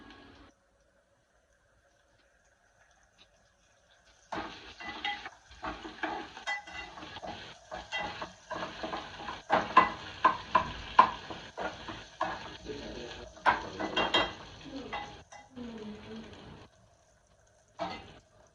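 Curry leaves hit hot oil in a pan, giving a crackling sizzle with scraping stirs that starts after a few quiet seconds, builds into dense bursts, and fades near the end.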